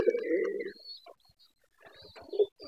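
Pigeons coo just outside their coop, a low throaty coo at the start and another burst near the end, close and fairly soft, separated by a near-silent gap.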